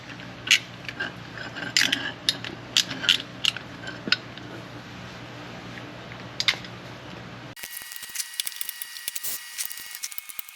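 A ratchet clicks in short bursts while tightening the gear oil fill and drain plugs on a third-generation Toyota Tacoma transmission, torqued to 27 foot-pounds; close, crisp pawl clicking with pauses between strokes.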